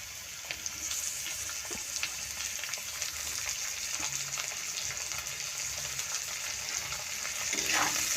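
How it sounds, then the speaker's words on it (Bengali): Carrots and capsicum fry in a pan for wedding-style fried rice, a steady close sizzle with soft stirring scrapes and a brief watery burst near the end, no talking. "হালকা করে গাজরগুলো হালকা করে ভেজে নেওয়ার পরে ক্যাপসিকাম দিয়ে দিলাম"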